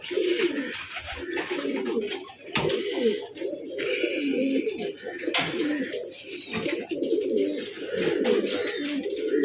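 Racing pigeons kept for sale coo continuously, several birds overlapping in low, throaty rolling calls, close and loud, with occasional chirps and brief clatter.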